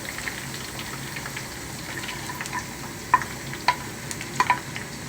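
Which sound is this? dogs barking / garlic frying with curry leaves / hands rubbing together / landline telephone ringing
garlic frying with curry leaves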